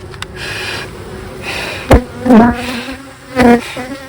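Angry honey bees buzzing around an opened, honey-bound brood box, a loud close hum with individual bees droning past the ear, over a steady background of the swarm, with one sharp knock.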